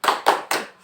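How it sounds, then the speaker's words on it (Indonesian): Three sharp, evenly spaced hand claps from a group doing a 'tepuk salut' salute clap, close and crisp, each burst dying away quickly in a quick rhythmic pattern. "kita kasih tepuk salut untuk Ibu Nino."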